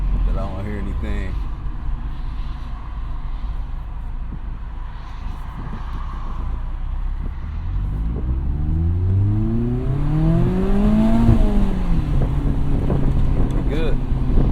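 A Mazda ND3 Miata rolls over a speed bump, its engine note rising and falling beneath steady road and wind noise inside the cabin, with a person talking over it.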